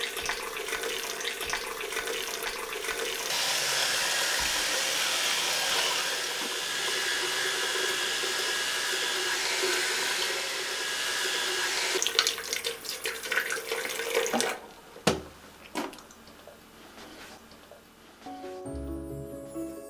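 A bathroom tap runs at full flow into a sink throughout tooth brushing, a steady dense rush that breaks into splashes and a few knocks near the end before cutting off.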